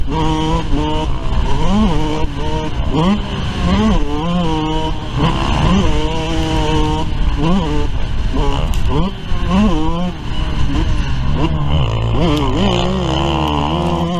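A Yamaha YZ125 dirt bike on a motocross track revs hard and close, its engine pitch climbing and dropping repeatedly through gear changes and throttle blips into and out of corners.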